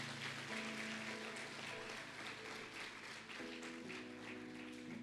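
A church congregation applauds a married couple with steady, dense clapping that fills the room and holds for several seconds, while sustained keyboard chords play softly underneath.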